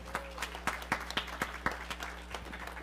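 A church congregation applauding volunteers in a sanctuary, heard as faint, scattered hand claps that come in a loose rhythm over a steady low hum.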